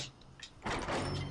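In the video game Far Cry 4, a door opens with a soft mechanical start, then a loud, broad whooshing slide that stays steady to the end, with no voices.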